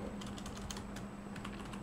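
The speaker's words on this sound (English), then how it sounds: "For now I'm using the F keyboard" Rapid clicky typing on a computer keyboard, close and quiet, with a run of key presses over a soft background hiss.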